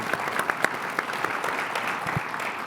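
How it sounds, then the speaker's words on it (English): An audience at a panel discussion gives a round of applause for the panelists: dense, steady clapping from a crowd, moderately distant and even throughout. "Please join me in a round of applause for our panelists today."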